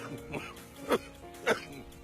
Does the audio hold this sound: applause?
no